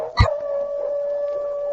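A white husky in the Yukon wilderness lets out one long, steady, wailing howl that holds a single pitch, close and fairly loud, after a brief thump at the start.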